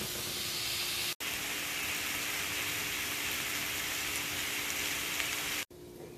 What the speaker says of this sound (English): sauteing onions and we'll come back soon